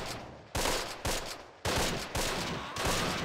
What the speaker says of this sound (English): Shoot them with the Thompson!